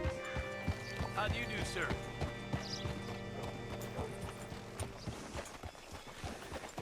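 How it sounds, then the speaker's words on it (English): Horse hooves clip-clop at a steady walking rhythm in Red Dead Redemption II, close and distinct, with a brief spoken greeting over the hoofbeats and a few quieter steps after. "Hitch your horse up here."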